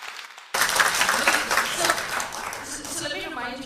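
Audience applause in a dark auditorium during an intimate author conversation, bursting in abruptly and holding as a steady wash of clapping that slowly thins, with some voices mixed in.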